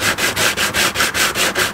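Sandpaper scrubs rust from a spot on a car's body, rubbing back and forth in quick, steady strokes about five times a second, loud and close with no talking.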